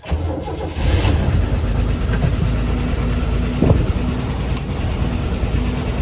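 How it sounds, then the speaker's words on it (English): A 1970 International Scout's 232 straight-six engine, just after a carburetor rebuild, runs steadily on its own at a close, even idle, with a low continuous rumble and a slight hum throughout. "Well, she's running on her own."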